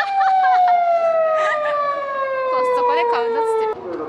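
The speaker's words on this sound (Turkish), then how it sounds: "Polis kırmızı ışıkta geçen birinin peşinden gidiyor şu an." A police car siren wails steadily and loudly while chasing a car that ran a red light on a city street, its tone sliding slowly downward as it passes, with people talking excitedly over it.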